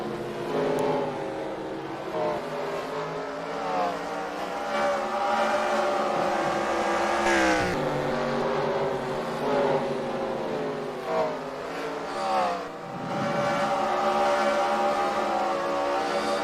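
Sprint cars roar around the dirt oval at the Knoxville Nationals, engines droning loud and continuous with rising and falling pitch as several cars pass, a dense steady wall of racing engine noise throughout.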